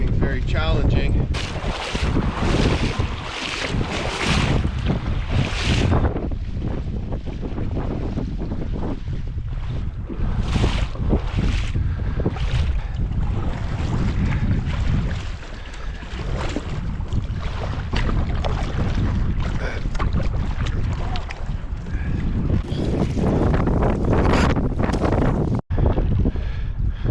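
Canoe paddling upriver through a swampy stretch past beaver dams in wind, with steady wind buffeting and water noise filling the whole clip and occasional strokes and splashes, loud and close throughout.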